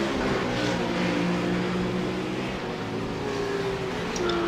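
A new Corvette GT race car in a racing simulator game, its engine droning steadily and loudly at high revs throughout, a continuous harmonic roar with slight pitch shifts and no talk.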